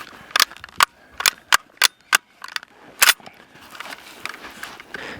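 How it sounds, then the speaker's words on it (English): An M1 Carbine fires about eight sharp, loud semi-automatic shots in quick, uneven succession. A quieter rustle of handling follows the shots. "After shooting this weapon for a while, I have gained an appreciation for this weapon that helped win World War II."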